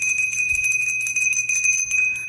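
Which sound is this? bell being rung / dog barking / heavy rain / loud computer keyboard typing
bell being rung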